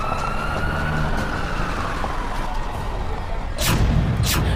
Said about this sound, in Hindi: एम्बुलेंस बुलाई गई।